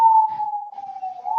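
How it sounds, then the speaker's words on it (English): A police siren wails outside as one steady, slowly wavering tone, holding fairly even loudness for the whole stretch with no talk over it. "Sorry about the sirens."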